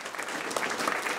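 Audience applause at a housing and city-building talk event, a brief continuous wash of clapping at moderate level without any pauses.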